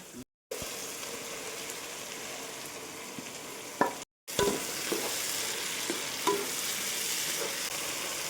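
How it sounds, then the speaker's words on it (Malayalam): Onion with tomato, ginger, green chilli and garlic sautés in a pan, a soft continuous sizzle with occasional scraping stirs and a couple of brief silent gaps. "സവാള പകുതി വഴണ്ട് വരുമ്പോൾ അതിൻ്റെ അകത്തേക്ക് തക്കാളി ചേർത്ത് വഴറ്റുക."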